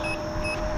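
Warning beep from a Gotway Monster electric unicycle signalling 20% battery, heard as two short high-pitched tones over steady road and wind noise.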